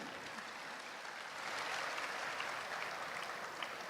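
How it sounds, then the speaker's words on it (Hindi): An audience applauds after a stage drama performance at a program in Kullu, giving a steady wash of clapping that swells slightly midway and continues evenly throughout. "एक बार जोरदार तालियां"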